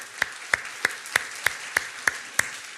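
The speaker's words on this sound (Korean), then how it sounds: "하나님 앞에 영광과 감사의 박수 올려드리기도 하겠습니다" Steady, evenly spaced single claps, about eight over three seconds, from one or a few people in a Korean church worship service, fairly close and clear with no talk.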